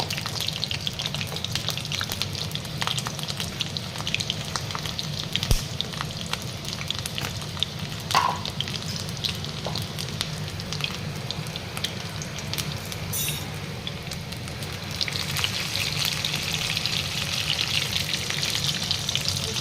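Papaya and potato frying in a pan for mutton curry, a steady close sizzle with occasional stirring scrapes and clinks throughout.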